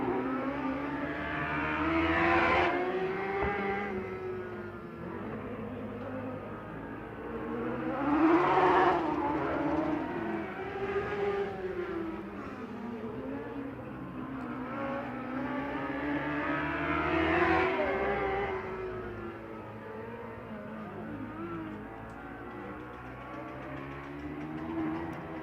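A race car engine at Placerville Speedway drones and surges continuously, its pitch rising and falling in repeated sweeps as it revs, with an odd sound as it slows to a stop, fairly loud and close with no talking.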